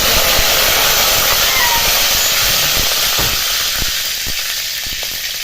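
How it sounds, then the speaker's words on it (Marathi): Curry leaves dropped into a hot mustard-seed and cumin tempering for a green-pea curry set off a loud, steady sizzle and hiss, close up, continuing alone and easing slightly toward the end. "फोडणी चांगली तडतडली की याच्यामध्ये कढीपत्ता घालून"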